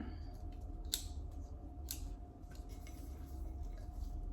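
Scissors snip an iris flower stem in two crisp, close cuts a second apart, over a steady low room hum, with no talking.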